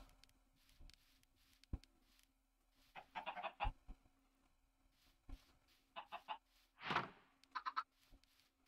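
Minecraft chickens on a farm clucking in short bursts, several separate squawky clucks and bwak calls scattered across the stretch with quiet gaps between, close and clear over a faint low hum, no one speaking.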